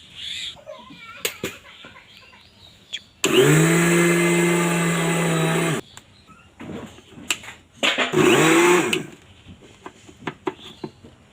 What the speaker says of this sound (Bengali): দেওয়ার পরে মিক্সার জারটায় এরপর এটা কিন্তু ঘুরিয়ে নেব